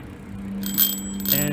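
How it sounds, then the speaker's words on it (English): A bicycle bell rings out during a park bike ride, a bright metallic chime that starts midway and repeats once more near the end over steady low riding noise. "And I use the bell for absolutely no reason."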